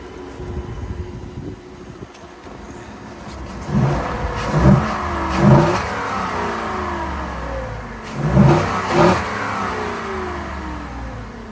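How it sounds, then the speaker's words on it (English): A 2021 Ford F-150 with a 5.0 V8 and an S&B cold air intake, heard from under the open hood as two pairs of revs rise and fall over a steady idle, loud and close. "There's definitely an intake sound when you're pushing on the accelerator."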